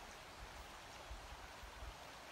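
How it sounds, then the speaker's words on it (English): A river flows steadily with a soft, continuous rushing wash, faint and even throughout, carrying no voices. "to the sounds of the river,"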